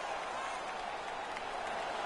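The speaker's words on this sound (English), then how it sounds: "The crowd is all over them right now." A stadium crowd cheers and applauds in a continuous, distant roar, a dense wash of noise without breaks.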